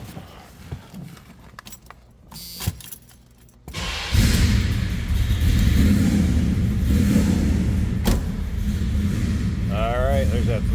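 A 383 stroker V8 in a 1972 Chevrolet Chevelle Malibu convertible cranks and fires after a few seconds of quieter clinking, then settles into a loud, steady rumbling idle while people talk nearby.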